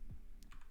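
A few quick keystrokes on a computer keyboard, soft close clicks in a short burst with no voices.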